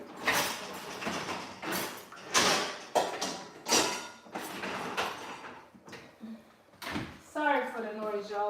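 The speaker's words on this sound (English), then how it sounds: "I am loading that dishwasher as we go" A dishwasher is loaded in a home kitchen during a chicken noodle soup cook, with dishes and racks giving close, irregular clattering knocks and sliding bumps, followed by a short tonal chime near the end.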